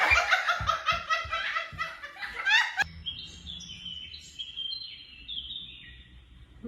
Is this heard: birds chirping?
yes